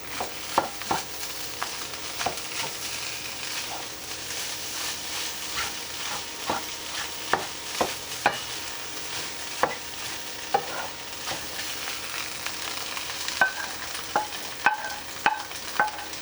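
Ham and hash browns stirred through a frying pan sizzle steadily, with repeated sharp clicks and scrapes from the utensil punctuating the frying throughout, fairly close and without talk.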